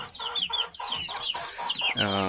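Japanese bantam hens on a farm cluck in a quick run of short, close bursts, ending in a longer drawn-out call.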